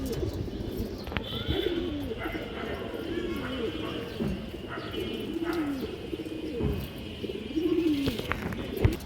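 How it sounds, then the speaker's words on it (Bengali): A female pigeon coos nearby in a short repeated series of soft, throaty calls, while people talk in the background. "এই যে এটা মাদি একটা মাদি কবুতর।"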